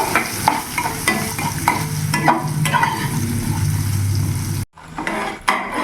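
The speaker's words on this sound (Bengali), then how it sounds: "অল্প লবণ আর অল্প একটু হলুদ দিয়ে দিলাম হালকা করে ভেজে নেব" Potatoes with a little salt and turmeric fry lightly in a pan, steady sizzling broken by repeated scraping and clinking of a utensil against the pan, then a sudden brief drop to near silence before the frying resumes.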